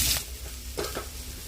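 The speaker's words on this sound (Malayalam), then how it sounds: "നമ്മൾ ആ പൊരിച്ച എണ്ണയ്ക്ക് നമ്മൾ കുറച്ച് ഉള്ളി ഇട്ട് കൊടുക്കണം" Onions hit hot frying oil left over from frying, letting out a brief burst of sizzle followed by a couple of spatula stirs over a steady hiss. The sound is close and moderately loud, with no speech.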